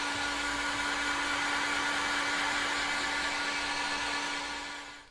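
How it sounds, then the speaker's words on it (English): A heat gun blows a steady, dense airy roar with a constant hum over a fresh coat of spray paint. It runs alone and unbroken for about five seconds, then starts to fade at the end. "we're going to dry it with a heat gun"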